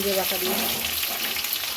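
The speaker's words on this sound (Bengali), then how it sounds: "আলুটা ভাজা হয়ে এসছে" Potatoes fry in a wok for a vegetarian alur dom, spiced with dried red chillies and whole cumin; a steady close sizzle with a few brief stirring scrapes early on, and no voices.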